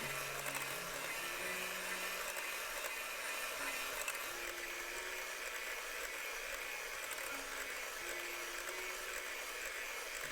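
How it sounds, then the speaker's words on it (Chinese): An electric mixer beats cake batter for a Philly fluff cake at medium speed, giving a faint, steady motor drone with slight pitch wobbles throughout and no talk. "接着用搅拌机中速搅打约2到3分钟"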